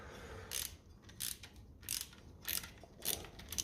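Wrench ratcheting on a bolt of a 1957 Ferguson FE 35 TVO tractor while loosening the fan belt, six crisp bursts of clicking in a regular rhythm, close and fairly quiet.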